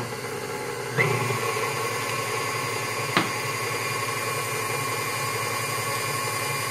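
An electric mixer beats cream cheese in a bowl, a steady loud motor whine running throughout with two brief knocks as a scraper touches the bowl.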